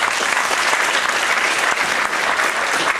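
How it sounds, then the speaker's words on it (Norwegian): A large audience at a local revue in Lardal gives a long, loud round of applause for the event's guards, a dense, steady wash of many hands clapping at once with no pauses. "så vi gir de også en kjempestor applaus"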